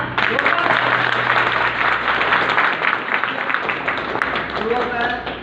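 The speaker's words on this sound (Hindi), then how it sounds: "जोरदार तालियां।" Loud, sustained applause from a crowd at a hotel program event, a dense roar of many clapping hands with voices mixed faintly beneath it.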